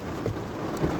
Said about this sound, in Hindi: ओह बारिश।